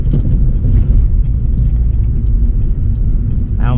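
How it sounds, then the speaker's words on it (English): A 1997 Acura CL manual car's engine hums low and steady as the vehicle slows in gear, a constant rumbling drone with no talking. "Now the engine is slowing me down."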